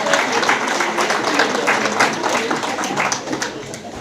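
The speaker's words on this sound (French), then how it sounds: "applaudissez très fort" Steady applause from the audience at a neighbourhood contracts assembly in Vernier, Switzerland, as steering committee members stand up, a dense, even patter of clapping that holds for several seconds with no talk.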